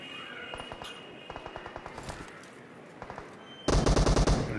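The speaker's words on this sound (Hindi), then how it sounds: "गोलियाँ तो देखो भर के चल रही है इधर" Automatic gunfire from the PUBG KR video game rattles in quick bursts, a distant spray followed by a louder, closer volley near the end.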